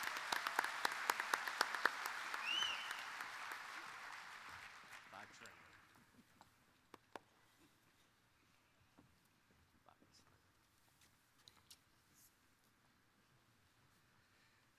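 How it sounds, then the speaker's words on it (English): A convention hall audience applauds for a moose committee, loud sustained clapping in the first six seconds that fades out, leaving scattered claps in quiet. "Can we please give this committee a round of applause for everything that they have done for their moose"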